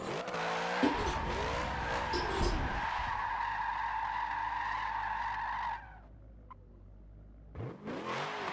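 A car drifts in a racing video game played on a Thrustmaster TMX wheel, taking a long, shallow drift in a higher gear. Loud tire squeal rides over a droning engine for about five seconds, fades, and the engine surges back near the end.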